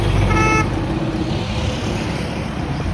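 A car approaches along a street, its engine rumble steady and moderately loud with a brief horn-like tone near the start, no one talking over it.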